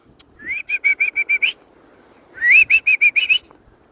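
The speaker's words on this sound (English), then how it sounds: "I do a little whistle, and I'm not much of a whistler" A person whistles a call to crows: two bursts of quick, repeated notes, each a rapid run of about seven bright pulses, separated by a short pause, close and clear.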